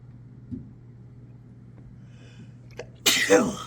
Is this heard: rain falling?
no